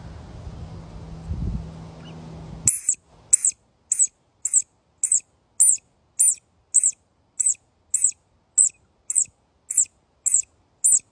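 A hand-made squirrel call imitating a distressed baby squirrel: after a brief low rumble, about fifteen sharp, high squeaky chirps repeat in a steady, evenly spaced rhythm, loud and close, with no talking.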